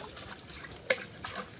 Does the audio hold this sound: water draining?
yes